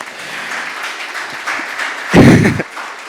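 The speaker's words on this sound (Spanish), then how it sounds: "es un aplauso" A congregation applauds with steady, sustained clapping throughout, which briefly swells with a louder, closer burst near the end.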